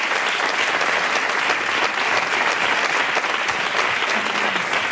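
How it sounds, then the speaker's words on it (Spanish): Applause at the "El Público" 2017 awards ceremony, a loud continuous roar of clapping from a full crowd, steady and dense across the whole moment. "Así que pido un aplauso también para mi compañero Antonio Patrocinio."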